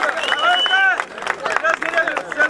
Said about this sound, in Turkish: Amcamızı alkışlayalım.